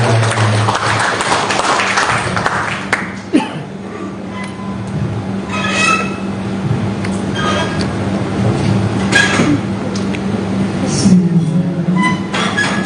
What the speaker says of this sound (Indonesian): Kita beri aplaus kepada Pak Atiko.